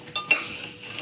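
Whole cardamom pods fry in ghee as a spoon stirs the pan, giving a soft sizzle with a couple of light scraping clicks, close and brief.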